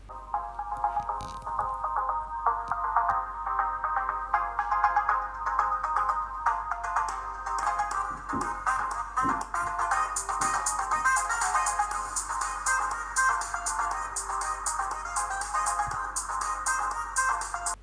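A ringtone plays through the small speaker of a Blackview A55 smartphone, a repeating electronic melody with a thin, tinny, somewhat quiet tone, looping steadily for the whole stretch with no talk.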